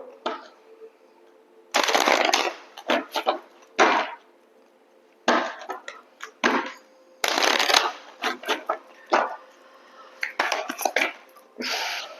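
Oracle cards are shuffled and cut in several loud, close riffling bursts separated by short pauses and light taps, with no talk over them.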